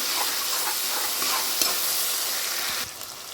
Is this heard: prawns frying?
yes